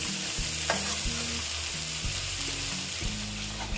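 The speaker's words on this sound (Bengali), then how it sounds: "আলুগুলো দিয়ে আমি কষিয়ে নিচ্ছি" Potatoes sauté in hot oil in a pan for an egg and potato curry, a close, steady sizzle broken by regular scraping stirs, with no talking.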